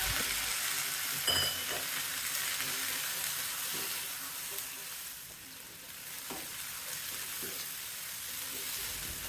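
Onions sautéing in a pan for spicy onion chutney, a steady broadband sizzle with occasional stirring scrapes and clinks, close and continuous, with no talking.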